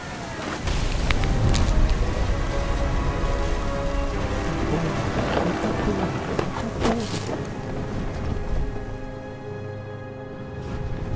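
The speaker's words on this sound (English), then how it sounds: "The thunder sounded much too close and full of angry power." Thunder and a rainstorm from What Remains of Edith Finch, with heavy wind and rain noise throughout and a few sharp cracks and rumbles, loud and close.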